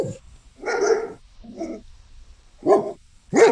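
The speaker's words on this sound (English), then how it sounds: "The dogs were too much for me to handle." Dogs barking in a few loud, separate bursts close by, with short pauses of quiet between the gruff barks.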